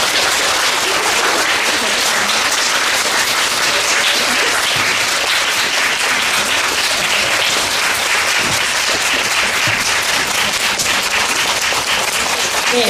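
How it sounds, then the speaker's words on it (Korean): A theatre audience applauds at a post-show talk for the musical Thrill Me, with dense, even clapping that stays loud and unbroken for the whole stretch and carries no speech. "박수 부탁드릴게요."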